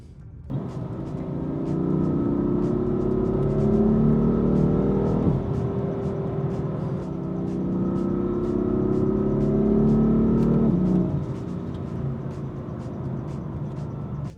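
A BMW E36 creeps along in slow traffic at about 30-40 km/h, its engine giving a steady, close drone that swells twice as it gently picks up speed and then eases off, with no talking.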